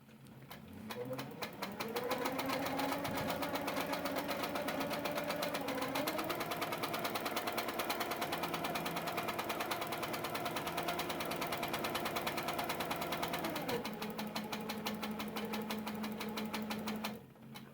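A sewing machine running steadily while free-motion quilting a flower on a quilt, its motor a continuous hum with a faint rapid needle rhythm, close and fairly loud, briefly easing near the end.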